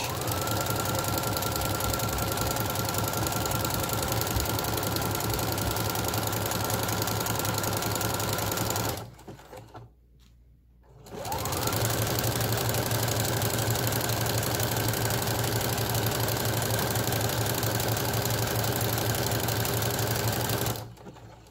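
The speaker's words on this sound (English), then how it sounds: "you're just going to sew this straight down without stopping, just one long stitch" Sewing machine stitching jersey fabric in one long straight seam, a loud, steady mechanical whir that halts briefly midway, then runs on before cutting off at the end; no voices.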